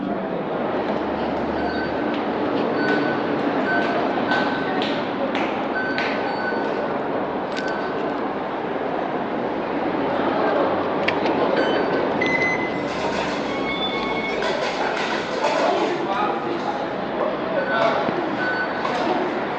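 Macau LRT light rail train running, a steady loud rumble of wheels and motors with occasional short electronic tones, continuous throughout with faint voices mixed in.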